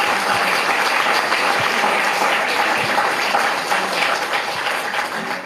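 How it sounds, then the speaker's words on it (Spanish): A crowd applauds steadily, a dense wash of clapping that holds at full strength before easing slightly at the end. "Pido un aplauso nuevamente para ellos"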